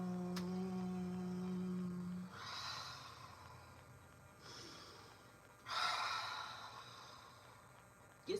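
A deep yoga exhale, a soft breathy rush of air from the nose and mouth, heard in a couple of gentle bursts after a faint sustained tone fades, quiet and close with no talking.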